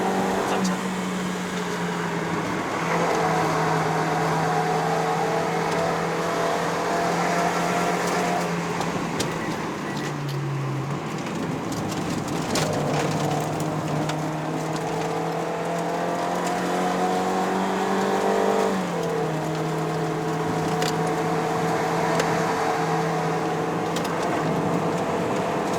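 A 2019 Toyota Yaris 1.5G with a CVT is driven at full throttle up a Genting mountain road in Malaysia, giving a loud, steady engine drone from inside the cabin with brief pitch dips through the bends.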